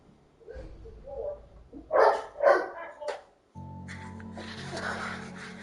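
Dogs in the game Alan Wake bark in a few loud, close bursts spaced about half a second apart, followed by a steady droning tone with a faint voice underneath.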